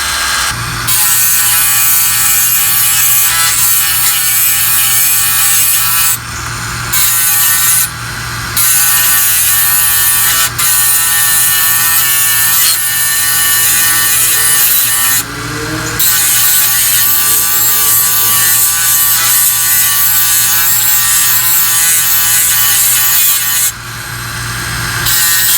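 A power tool grinds hedge trimmer blades sharp without files, sending out loud, close bursts of harsh abrasive whirring separated by several short pauses as each section is worked.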